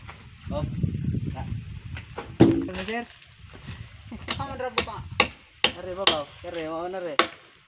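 A few sharp hammer strikes ring out in short bursts amid ongoing conversation, with people talking nearby between and over the blows.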